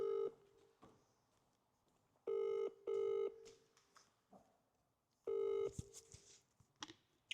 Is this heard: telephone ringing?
yes